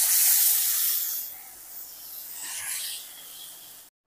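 A jaggery mixture poured into a preheated kadai over low flame hisses sharply at once, then the sizzle fades to a softer steady fizz with a second swell before it cuts off, with no voices.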